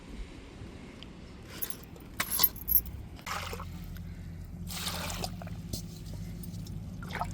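Crabs being rinsed in water, with soft splashing and trickling in brief bursts, faint and close, over a low steady background hum.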